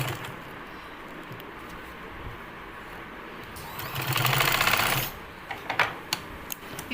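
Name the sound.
sewing machine stitching a belt salwar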